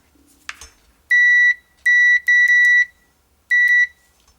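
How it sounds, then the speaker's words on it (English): A digital multimeter set to continuity gives a few loud electronic tone beeps of varying length, with a brief click and rustle of handling just before the first. "If it makes contact, it makes a tone"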